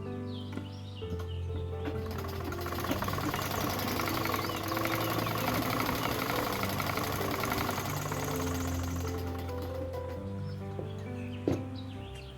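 A sewing machine stitches salwar pants in a steady, continuous mechanical whir that starts, runs evenly for about ten seconds, then stops, heard close with no talking.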